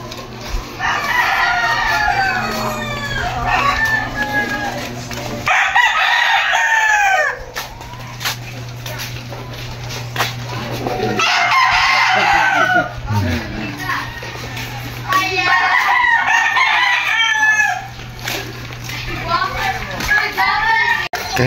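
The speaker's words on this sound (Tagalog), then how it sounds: "Daming mga manok" Roosters crowing repeatedly and hens clucking among fighting cocks kept on a small island, several calls rising over a steady background hum with voices and children faintly heard between them.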